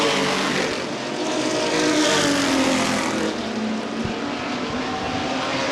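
ARCA race trucks roar around Winchester Speedway, a dense, loud wall of engine noise from a pack running down the backstretch and into turns three and four, rising slightly as they pass.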